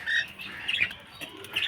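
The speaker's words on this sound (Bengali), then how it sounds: "এখানে আরেক জোড়া লাভবার্ড পাখি আছে, এদেরকেও দিয়ে দেবো" Cockatiels, budgerigars and lovebirds in an aviary colony, being fed water spinach, give close, bright squawks and quick chirps in short bursts, with a faint rustle of wings between calls.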